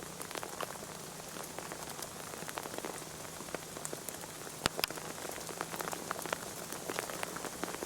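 Rain patters steadily on surfaces in the woods, with dense, even drops and a few sharper, louder hits close by, and no voices throughout.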